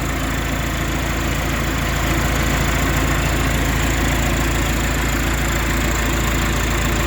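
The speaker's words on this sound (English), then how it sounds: "Engine purr is pretty good." A John Deere 450C track loader crawler's engine idles loud and close in a steady, unbroken rumble, with no talk over it.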